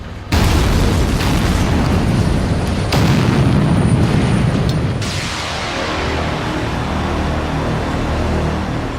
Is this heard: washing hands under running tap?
no